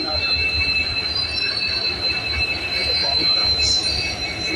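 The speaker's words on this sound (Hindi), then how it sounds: "अमरपाली एक्सप्रेस आने वाला है जो जाएंगे अमृतसर तक, दिल्ली होके जाएंगे" Wheels squeal in a steady, high metallic whine as the Amrapali Express rolls into a railway station. The squeal sounds loud and close and runs continuously over a rumbling rail noise.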